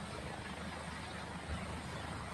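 Helicopter landing on a football field, a faint, steady rotor and engine rumble heard from a distance, continuous and low with no clear talk over it.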